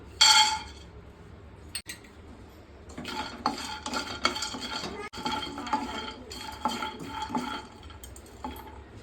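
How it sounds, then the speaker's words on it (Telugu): Peanuts roast dry in a pan and are stirred, making a busy rattle of nuts and a spoon scraping and clinking against metal in quick irregular strokes, close up, with a brief louder clatter at the start. "ఇప్పుడు కొన్ని పల్లీలు వేయించుకుందాం."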